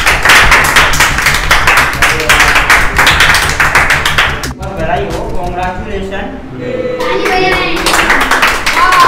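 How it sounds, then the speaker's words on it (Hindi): A group of people clapping hands at an indoor gathering, loud irregular claps for about four seconds, then the clapping fades out under a few voices and a child's calls. "तो तालियां मार दीजिए"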